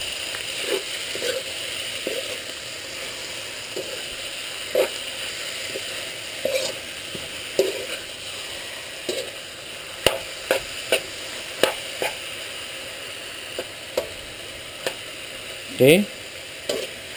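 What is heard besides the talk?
chicken breast sautéing in a pan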